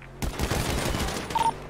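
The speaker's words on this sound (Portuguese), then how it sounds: "Tá dando tiro de volta, ó." A burst of video-game gunfire, several rapid overlapping shots crackling loudly in a dense volley that keeps going for over a second.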